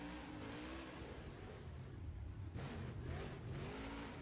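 The Avenger monster truck's big engine roars steadily at a Monster Jam stadium event, loud and continuous with rising revs, washed in arena echo and crowd noise.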